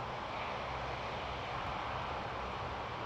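At Toronto Pearson Airport, an Air Canada Boeing 777-300ER airliner gives off a continuous broad jet roar, steady and fairly faint, with no talk over it.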